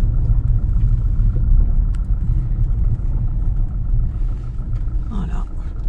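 Car driving slowly up beside a farmer's shed in the countryside, a steady close low engine rumble throughout with faint voice-like sounds near the end.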